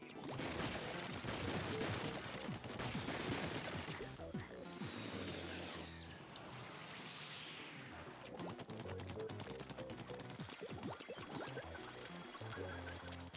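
Enemy ink weapons fire repeatedly in the Splatoon video game, with busy splattering shots and crashing hits giving way to a quieter stretch before rapid firing resumes over game sound effects.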